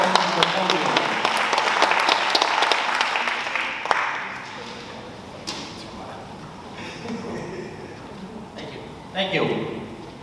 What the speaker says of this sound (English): give him a big round of applause while he's walking to the podium